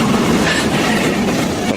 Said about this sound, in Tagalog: parating yung tren.